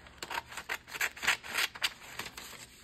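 Scissors snip out a paper collage picture in quick, quiet, close cuts with papery rustling between them.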